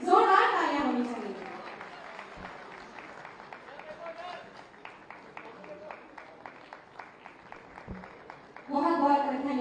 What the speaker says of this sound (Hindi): इनके लिए जोरदार तालियां होनी चाहिए।